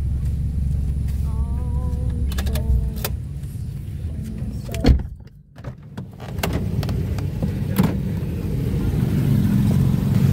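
Road traffic hums steadily with car engines idling and passing nearby, a low constant rumble with a few brief mechanical whines and knocks, and a short dip in the middle before the noise builds again.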